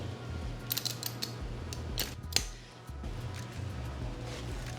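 A torque wrench tightening a bolt while installing a MaxJax lift in a garage gives a few sharp clicks near the middle, with low rumbling background noise throughout.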